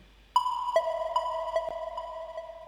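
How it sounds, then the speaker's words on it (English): A bright synth tone pulses in a steady rhythm, each note ringing on with a long echoing delay tail that keeps repeating beneath it. "just a synthesizer. And I put a nice long delay on it."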